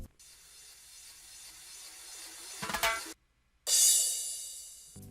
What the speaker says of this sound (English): popular Amapiano FX sound, which is called Ice Crash, coupled with a reggae roll in the beginning